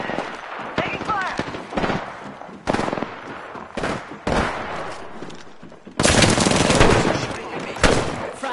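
Video game battle gunfire in Hemlock, bursts of shots crackling at intervals over a dense mix of combat noise, with a clipped voice calling out over the action.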